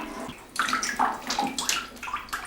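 Water and whey squeezed by hand from fresh handmade cheese curdled with dried thistle flower, heard as close, wet splashing and trickling in bursts, loud and alone.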